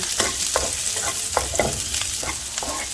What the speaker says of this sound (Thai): แล้วเราก็เจียว หอมแดงของเราลงไปเลยค่ะ